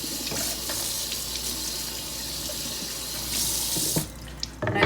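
A kitchen tap runs steadily at close range while a cutting board is rinsed under it, with the water's hiss shifting briefly near the end as the flow is interrupted.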